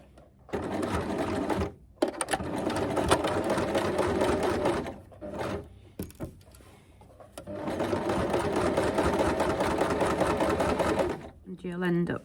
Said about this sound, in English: then we're going to stitch in the ditch all the way around